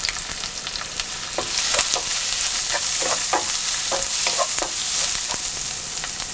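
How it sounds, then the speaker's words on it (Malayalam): Onion, garlic, curry leaves and salt sauté in a pan for an asparagus stir fry, a loud, steady sizzle broken by repeated scraping strokes of a spatula. "വെളുത്തുള്ളി, 2 തണ്ട് കറിവേപ്പില, ആവശ്യത്തിന് ഉപ്പ് എന്നിവയിട്ട് നന്നായിട്ട് വഴറ്റുക."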